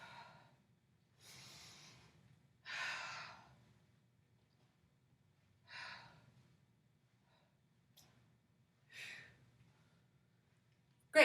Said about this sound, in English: getting that deep breathing going